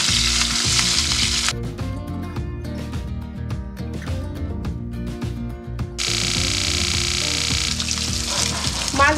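Pabda fish fry in hot oil with a loud, continuous crackling sizzle that stays close and steady throughout, interrupted by a brief dip in the hiss midway, with no speech.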